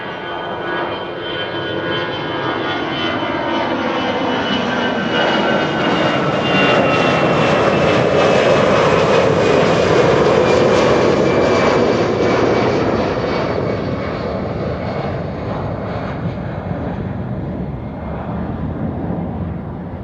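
A jet airliner, a KLM 737-900, roars past at Amsterdam Schiphol Airport, the loud engine sound swelling toward the middle and easing off again, with a shifting whine over the steady rumble and no talk.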